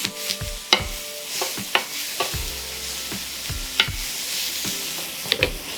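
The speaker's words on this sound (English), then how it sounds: "our meatballs are getting completely grilled, very good" Meatballs made with onion inside sizzle as they grill with zero oil. A steady frying hiss runs underneath, broken by repeated close clinks and scrapes of stirring and turning.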